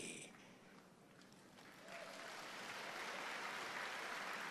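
Congregation applause during a church sermon, beginning faint and building into a broad sustained wash of clapping that grows louder toward the end, heard from a distance with no talk.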